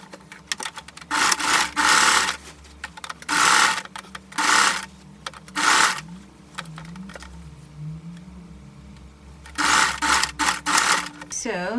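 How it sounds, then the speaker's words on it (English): A sewing machine stitches the side seam of a circle skater dress in several short bursts of fast, buzzing whir, separated by pauses with quieter handling between runs. "You're just going to sew it from there to there"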